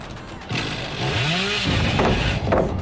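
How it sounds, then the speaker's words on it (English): Chainsaw revving in the game Dead by Daylight, used by a killer for mobility: a loud, steady engine roar that builds and holds across the clip, with a rising whine partway through. "Using the chainsaw for mobility, it's perfectly acceptable."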